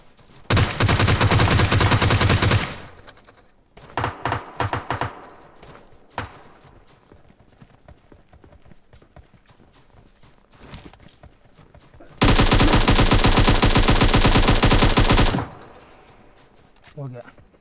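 Automatic gunfire in the mobile battle-royale game PUBG Mobile comes in two long, loud sustained bursts with some shorter volleys between them, while a voice talks quietly in the gaps.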